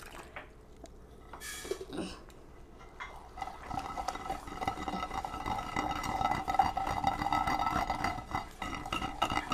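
Turkey berries being ground with tamarind water for chutney, a soft wet squishing and scraping in a mortar that starts sparse and builds into steady close grinding, heard alone.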